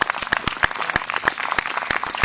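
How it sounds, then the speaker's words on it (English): An audience applauding a string orchestra after a concert, several distinct sharp claps standing out near the microphone over a looser, thinner patter of hands from the room. "one more round of applause for our string orchestra"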